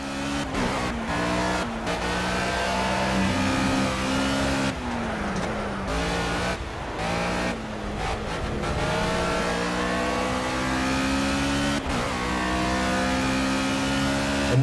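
Toyota GT86 race car engine in the racing video game Project Cars, revving loud and close with repeated gear shifts, rising and dropping pitch, and brief tire squeals throughout.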